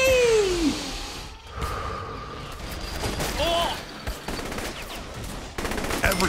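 Bursts of automatic gunfire crackle in Saints Row: The Third amid a chaotic game-show arena, layered with whooshes, an announcer-like voice and other effects.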